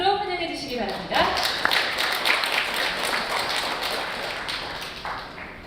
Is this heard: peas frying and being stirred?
no